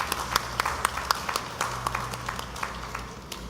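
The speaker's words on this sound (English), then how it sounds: "Let's give a round of applause for youth" Sparse, faint clapping from a small group at a Tobago political manifesto launch, a handful of distinct claps in loose rhythm that slowly thins out.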